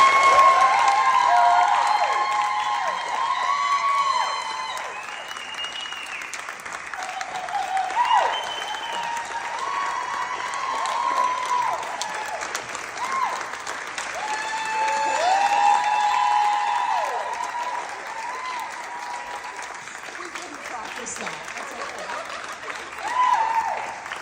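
Sustained applause and cheering from an audience honouring speakers at a women's storytelling event, a long, loud bed of clapping with whoops and shouts rising and falling over it, and some voices heard beneath.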